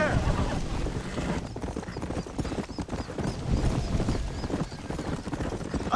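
Galloping horse hooves in the Western game Red Dead Redemption pound in a quick, continuous rhythm close by, with wind rushing and a faint whinny behind them.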